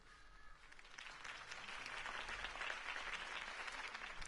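Crowd applause after a campaign speech in the Batman Telltale video game, a dense wash of clapping that swells slightly and holds steady throughout without any voices.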